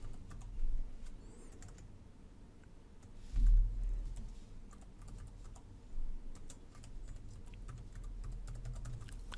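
A username is typed on a computer keyboard, giving a quiet run of quick close key clicks with a few heavier taps.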